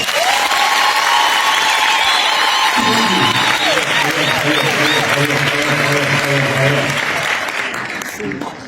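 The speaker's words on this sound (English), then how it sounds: "A big round of applause." Sustained applause and cheering from a crowd at a memorial service, loud and continuous, with a tonal voice or music line in the first seconds and lower chanting tones later, fading slightly toward the end.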